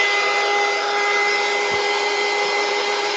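A hair dryer or heat tool blows steadily over a mixed media craft board, a continuous loud whirring hum with a constant tone that stays even throughout, with no one speaking.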